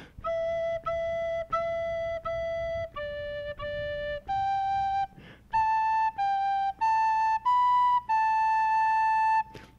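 A solo recorder plays the second phrase of Jolly Old St. Nicholas: a dozen clean, breathy, pure notes, starting with four repeats of one pitch and then stepping up and down, with a brief pause midway.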